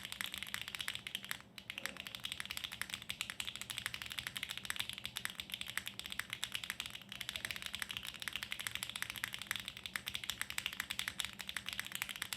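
Rapid, continuous typing on an HMX-switch mechanical keyboard built without foam, a dense stream of close clacky keystrokes with no pauses.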